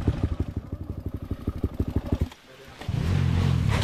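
A motorcycle being ridden chugs in a steady rapid pulse up close, dips briefly, then settles into a louder continuous engine drone.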